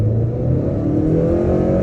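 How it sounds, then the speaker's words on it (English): A 2023 Acura TLX, front-wheel drive, pulls in second gear at about half throttle, its engine note steady and close with a rising mid-pitched drone and no pauses. "2nd gear, about half throttle."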